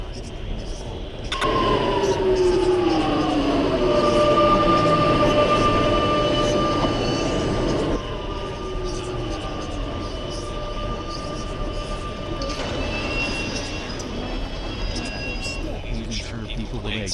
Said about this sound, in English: Now the trains are arriving at York Central